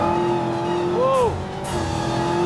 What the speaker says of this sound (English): It's spinning its wheels.